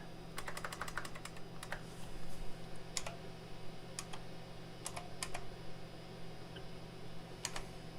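Typing on a computer keyboard during an IBM computer museum live stream, heard as scattered bursts and single key clicks over a steady low hum, fairly close and moderately quiet.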